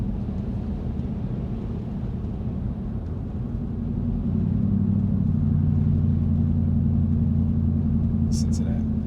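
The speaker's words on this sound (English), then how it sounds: "If you've ever driven on frozen roads like this, you know it's very rough. It shakes and vibrates your car quite a bit." A car driving over a rough frozen road gives a steady low rumble that grows heavier and louder partway through, with shaking and vibration carrying through the cabin and no talk over it.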